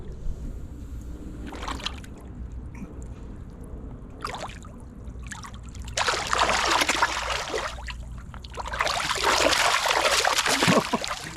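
Catfish thrash in the water beside a fishing boat after a chunk of fish is tossed in, two loud bursts of churning splashes breaking out over a quieter background of lapping water.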